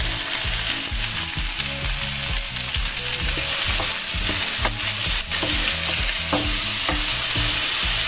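Chayote squash sautéing in a pan, a loud continuous sizzle with a steady hiss and rhythmic stirring scrapes throughout.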